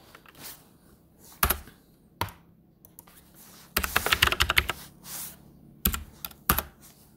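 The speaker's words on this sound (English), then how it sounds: "I'm gonna type Redshift" Typing on a computer keyboard while setting up a Redshift render in Houdini: scattered close key clicks, then a dense fast burst of keystrokes in the middle, ending with a few isolated taps.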